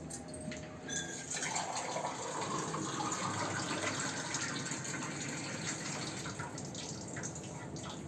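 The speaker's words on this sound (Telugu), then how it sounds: "2 గ్లాసులు వాటరు దీనిలో పోస్తాను" Two glasses of water are poured into a pot to make a barley drink, a steady, continuous gush and splash that stays quiet and close throughout.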